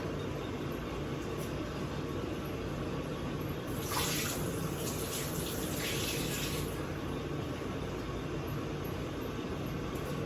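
Tap water runs steadily into a plant propagation container, a constant, fairly quiet rush with a brief brighter splashing stretch in the middle.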